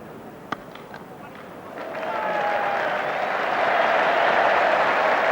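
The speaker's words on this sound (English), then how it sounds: "the crowd were clapping and applauding that magnificent performance by Graham Gooch" Cricket crowd at Lord's during an England v India Test match, clapping and applauding a batting performance; applause swells from a faint start into a steady, broad wash of distant crowd noise.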